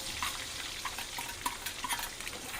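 Masala spices frying in oil for a Maharashtrian egg bharit: a quiet, steady sizzle with light stirring scrapes and small clinks of a spoon against the pan, no talk.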